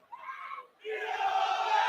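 Football fans at a Gateshead versus Maidenhead United match shout loudly in a crowd, a short burst followed by a longer sustained roar.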